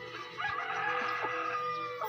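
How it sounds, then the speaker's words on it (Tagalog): Chickens clucking and a rooster crowing among a flock in a yard, several close, overlapping calls in a rising and falling chorus with no talk over them. "This girl feeding her chicken."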